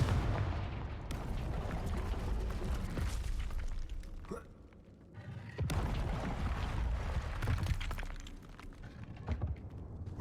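A Confringo blasting spell is cast in Hogwarts Legacy, giving loud, booming blasts with crackling, shattering debris over continuous noise. There is a brief lull before another burst of explosive impacts.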